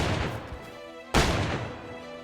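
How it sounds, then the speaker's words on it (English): Gunfire in the survival video game DayZ: sharp, booming shots with a rough, noisy tail, one near the start and a louder one about a second later, set against continuous background noise. "Why is this dude shooting in like a rhythm?"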